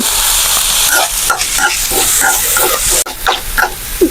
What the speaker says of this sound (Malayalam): നമുക്ക് ഈ തേങ്ങ ചിരകി വെച്ചത് വറുത്തെടുക്കാമെന്ന് അതിൽ കുറച്ച് എണ്ണ ഒഴിച്ചിട്ട്